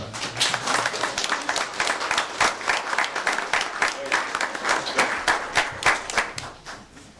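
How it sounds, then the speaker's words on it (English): Warm applause from a crowd at a borough council meeting, many hands clapping in a dense sustained round that fades slightly toward the end, with some voices mixed in. "Another round of applause for"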